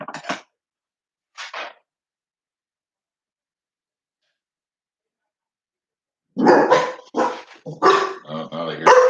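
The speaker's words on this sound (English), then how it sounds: "They were barking just a bark." Cane Corso dogs bark in two short bursts near the start, then after a long silence break into a louder, denser run of barking toward the end, close by.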